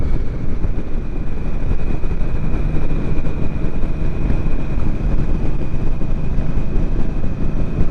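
An Indian Scout Rogue Sixty cruiser rumbles in fourth gear around 2650 RPM, a loud, constant engine drone mixed with heavy wind rush while riding.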